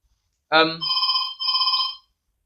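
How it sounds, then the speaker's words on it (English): A telephone rings with two long, steady electronic trills close by, following a brief voice at the start. "I got a phone call, and the phone's ringing."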